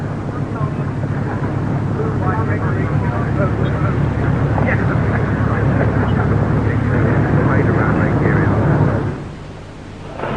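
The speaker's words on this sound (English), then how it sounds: "the 5-man handling crew turned the aircraft into wind for an engine run-up" A Supermarine Spitfire I engine runs up on the ground, a loud, steady roaring drone that holds for about nine seconds before suddenly dropping away, with wind buffeting the microphone.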